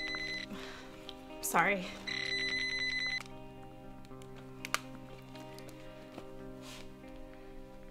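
A mobile phone rings with a bright repeating electronic tone for about a second, under a dramatic film score and brief speech.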